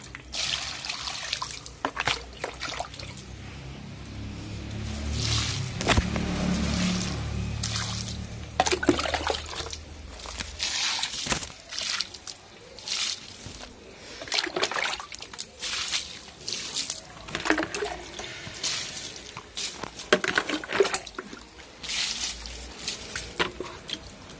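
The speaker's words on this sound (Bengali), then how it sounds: "চলো এই গাছগুলোতে একটু জল দিই।" Water poured onto dry garden plants outdoors in a village, a steady trickling and splashing that runs through the whole stretch with uneven bursts, moderately close and alone with no talk.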